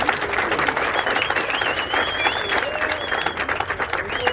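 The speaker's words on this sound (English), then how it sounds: "Can I get a clap on that?" Audience clapping and cheering at an urban surfer hippo launch address, a steady dense wash of applause with whistles and voices rising through it.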